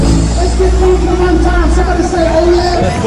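Dense crowd hubbub at Fisherman's Wharf in San Francisco, a loud, steady wash of many overlapping voices filling the whole stretch, with nearby talk rising out of the babble.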